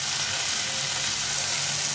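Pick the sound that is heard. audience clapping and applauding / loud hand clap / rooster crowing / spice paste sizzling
spice paste sizzling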